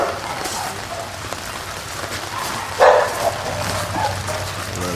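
Dogs bark at a rescue kennel's outdoor area in the rain, with scattered yips over a steady hiss of rainfall and one sharp, louder burst near the middle.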